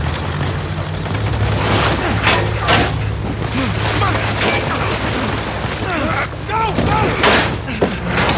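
Heavy gunfire and booming blasts pepper a plane in the action game Uncharted 4, a dense, loud barrage of shots and impacts mixed with shouting voices and engine rumble underneath.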